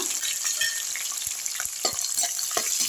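Onions and green chillies frying in hot oil for a kara kuzhambu, with a steady close sizzle broken by light stirring clicks and pops throughout, no voices.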